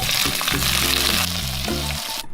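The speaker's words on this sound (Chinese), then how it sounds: "锅热了，先把青红椒放下来翻炒一下。" Green and red peppers stir-fried in a hot wok, a steady loud sizzle with scraping tosses, heard alone without talk.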